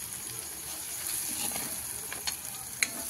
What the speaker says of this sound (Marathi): जरा लाल होईपर्यंत हलवलं ना मैत्रिणींनो, जरा टेस्ट लागतं